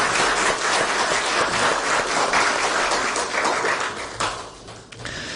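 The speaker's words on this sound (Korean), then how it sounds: "우리 외국인 유학생들에게 격려의 박수 하겠습니다." A chapel congregation applauds foreign students, dense sustained clapping from a large crowd that fills the space and tapers slightly toward the end.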